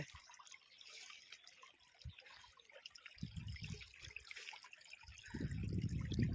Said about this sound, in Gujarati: અહીંયા પાઇપનું પાણી પડે છે